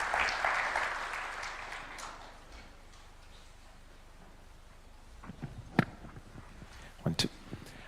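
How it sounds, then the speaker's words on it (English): Applause from a standing audience after a national address by President Ruto of Kenya, broad and fairly loud for the first two seconds, then fading out, leaving quiet room tone with a few scattered knocks and shuffles. "this deserves another standing ovation and a clap"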